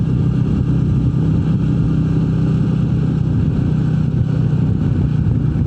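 Steady wind roar mixed with the engine drone of a Royal Enfield Meteor 350 heard from inside a helmet while riding, a constant, loud, unbroken rumble with no talking.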